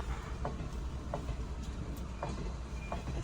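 Low rumble of a train rolling along, with faint periodic clicks and clatters over a steady drone, no talking.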